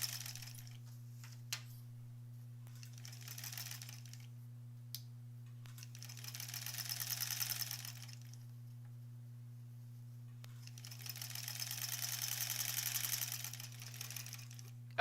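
A sewing machine stitches quilt squares for the back of a granny squares quilt, running in three separate bursts of roughly two seconds each, with quiet pauses between them over a steady low electrical hum.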